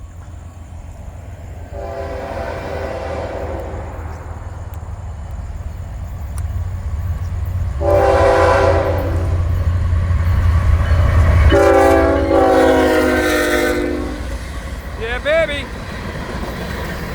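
A Florida East Coast Railway rock freight train rolls past with heavy low rumble and rail clatter, sounding three long, loud horn blasts, followed by a brief exclamation from a man.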